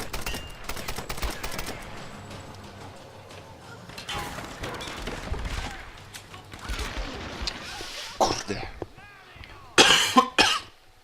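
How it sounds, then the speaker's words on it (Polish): A man coughs several times in a short harsh burst while playing a Tomb Raider game, with game sounds and clattering underneath, and the loudest coughs come near the end. "słyszycie, jeszcze kaszel mam"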